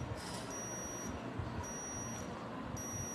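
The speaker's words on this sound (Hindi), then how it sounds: "इस तरीके से ये बीप बीप की आवाज़ आएगी, तो इससे आपको पता चल जाएगा कि आपका जो है टेम्परेचर कितना है" Digital thermometer giving three short high-pitched beeps, evenly spaced and fairly faint against a quiet background hum, no voices.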